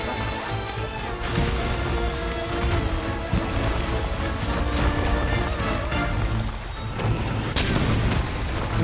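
A Wyvern ammo blast from a bowgun in Monster Hunter Sunbreak: heavy booming impacts with crashing bursts ring over dense, loud game music and effects, with a large blast near the end.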